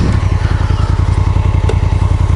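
An Africa Twin motorcycle churns through loose dirt on a trail, its engine running in a steady, loud, rhythmic chug close by, with rear-wheel spin and a brief clatter partway through.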